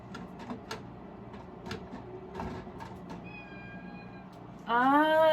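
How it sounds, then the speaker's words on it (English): A cat meows close by near the end, a loud drawn-out call following quieter indoor clicks and soft household sounds. "That's my Papa Cat."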